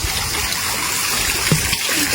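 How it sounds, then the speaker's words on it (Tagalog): Steady rain falls outdoors near a place where children are swimming, making a constant broadband hiss and patter with no pauses, fairly loud and close. "It's raining."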